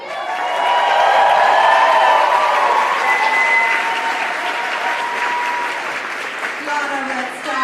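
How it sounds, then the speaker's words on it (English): A burlesque festival audience breaks into loud applause and cheering for a performer, dense clapping with whoops and shouts, swelling early and then holding steady as voices carry over it. "Please, a round of applause for Waxy Moon."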